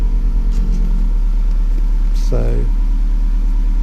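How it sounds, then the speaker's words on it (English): A 2018 Audi RS3 five-cylinder engine idles in comfort mode with a steady low rumble through its big exhaust, running continuously under a brief spoken word. "it's still a 5-cylinder engine with quite a big exhaust, so it's definitely not silent in comfort"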